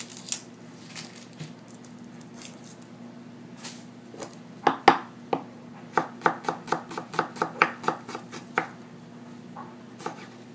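Knife chopping vegetables and garlic for Cuban chicken fricassee on a board, a run of sharp, evenly spaced thwacks that speed up into a steady rhythm after a few scattered cuts, close and clear with no talk.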